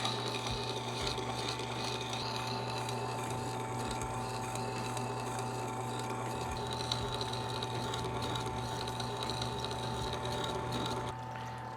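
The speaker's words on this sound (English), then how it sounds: "It's a little bit more noisy once you get the chisel on the stone" A chisel ground on the stone of a VEVOR water-cooled sharpener, a steady motor hum with a constant scraping, whirring grind and faint trickling water, running evenly before easing slightly at the end.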